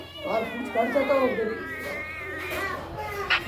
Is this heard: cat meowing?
yes